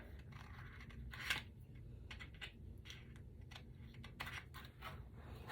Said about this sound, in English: I'm just going to clean it up with these little micro scissors